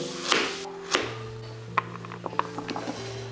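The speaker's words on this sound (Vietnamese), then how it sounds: "Củ cà rốt này thì mình tỉa hoa và cắt thành những miếng tròn." A knife taps sharply on a cutting board in a few loud chops slicing a carrot into rounds, then lighter, quicker cuts follow, over a steady low hum.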